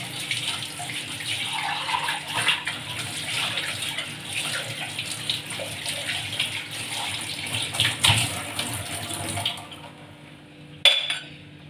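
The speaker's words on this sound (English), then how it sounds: "Then we'll wash our glass." Water runs steadily from a kitchen tap while a glass is rinsed, a continuous splashing hiss with occasional clinks, then the flow stops near the end, leaving a brief knock.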